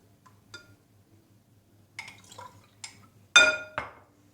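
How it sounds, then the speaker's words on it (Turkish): Liquid poured into five glasses to fill them halfway, with sharp glass clinks and brief splashing pours in separate bursts, close and clear over near silence, the loudest clink and pour near the end. "Şimdi öncelikle bütün bardaklara Böyle dolduralım. 5 bardak aldım ben. Yarıya kadar dolduruyorum."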